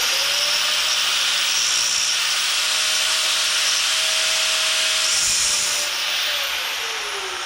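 A power tool grinds steadily against a metal hinge on the front end of a 1951 Chevy rat rod truck, a continuous loud abrasive whine that shifts pitch as the cut varies, no talking.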